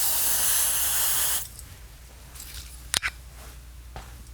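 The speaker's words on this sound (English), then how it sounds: "I'm going to spray some coolant on that crystal" Coolant spray from an aerosol hits the crystal of a BC-348 aircraft radio receiver: a loud, steady hiss for over a second, then sudden quiet broken by a few short sharp bursts.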